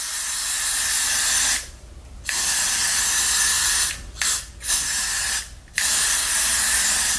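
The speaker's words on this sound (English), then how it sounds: "I'm gonna go in with another layer of the spray" Hair spray hissing in several bursts over a wig cap, a long steady spray, then a brief pause, a few short interruptions and more spraying, loud and close.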